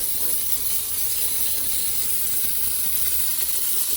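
An AliExpress steam cleaner set to maximum blasts a steady, loud, continuous hiss of steam close to the microphone, with a faint mechanical rattle beneath it and no talking.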